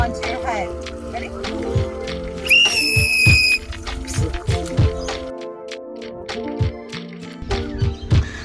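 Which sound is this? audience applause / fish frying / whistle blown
whistle blown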